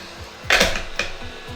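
A heat gun blows hot air while heating a pair of Bose SoundSport wireless earbuds for repair, a short, close whoosh of airflow with a brief surge partway through, alone without talk.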